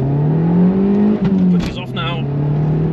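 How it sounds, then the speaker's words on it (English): An Abarth 500 EsseEsse revs hard during a launch, its engine droning steadily with a rising pitch as the wheels spin. A person talks over the engine noise partway through. "Oh, that is a wheel spin."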